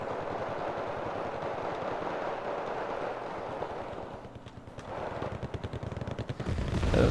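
MG3 machine guns firing in a video game battle, with rapid rattling bursts that dip briefly midway, then return as fast, distinct, rhythmic volleys that grow louder near the end.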